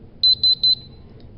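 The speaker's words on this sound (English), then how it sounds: "And it'll go into alarm here." A RAE Systems QRAE II gas detector sounds its alarm: three quick pairs of shrill electronic beeps in a row, a short pause, then another beep starting, loud and close over a quiet background.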